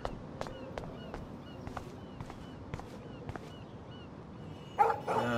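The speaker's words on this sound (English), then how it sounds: "No barking." A dog in the video game Life is Strange gives several short, faint barks spaced irregularly over quiet ambience, followed by a brief louder shuffle near the end.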